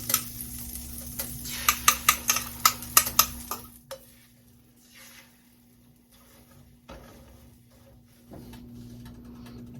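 Rehydrated freeze-dried egg cooks in a pan, starting with a quick run of sharp utensil clicks and scrapes against the pan. A soft, steady sizzle carries on alone after that.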